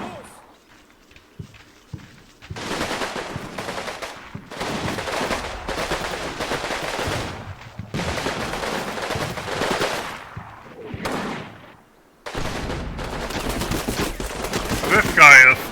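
Machine gun fire in the wartime strategy game Combat Mission, long sustained bursts of rattling automatic fire broken by short pauses, loud and close, with distant artillery rumble mixed in.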